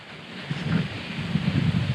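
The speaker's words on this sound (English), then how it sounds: "the wind is crazy loud here" Strong wind at the summit of a dormant volcano in the Caribbean buffets the microphone in a loud, low, rumbling roar that surges and wavers without a break.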